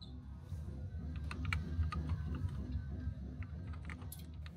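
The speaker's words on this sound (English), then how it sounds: "The keyboard makes a nice clicking sound when you type." Typing on an old 1980s computer keyboard in a vintage store, a fast irregular run of clicky keystrokes, fairly faint over a low background hum, with no talk.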